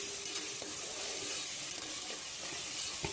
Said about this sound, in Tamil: புதினா இலை போட்டுட்டு நல்லா வதக்குங்க.